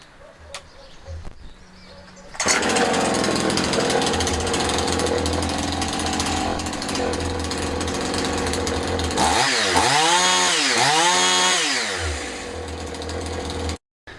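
A rebuilt Husqvarna 51 chainsaw starts and runs loud and steady, then is revved up and down several times in quick surges before abruptly cutting off.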